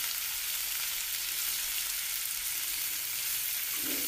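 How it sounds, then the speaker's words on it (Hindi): Chicken skewers fry in hot oil over a low flame, giving a steady, close, even sizzle with no talking. "स्टिक ऐड कर देंगे गरम ऑयल के अंदर, लो फ्लेम पे इस तरीके से।"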